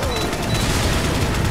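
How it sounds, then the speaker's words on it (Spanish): Explosion and gunfire in the video game Resident Evil 4, a dense, sustained burst of booming blasts and rattling shots with no pauses over its short span, loud and close. "Y la explosión que pilla el otro."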